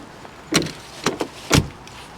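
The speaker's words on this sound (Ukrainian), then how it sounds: "Дуже легко закриваються дверки." Three quick, solid thumps sound close at hand, evenly spaced about half a second apart, as a door of a high-mileage Volvo V70 estate car shuts, with quiet surroundings between them and no talking.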